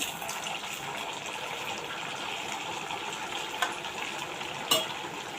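A jumbo sabudana vada, a tapioca-pearl fritter, fries in hot oil with a steady, soft, even sizzle, broken by two small pops.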